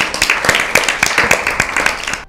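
Studio audience clapping for a team at a Lent season Bible quiz, a burst of loud, close hand claps with sharp individual slaps over a brief span.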